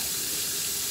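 Water runs steadily from a kitchen tap into a sink while dishes are washed, a loud, close, continuous hiss with no pauses.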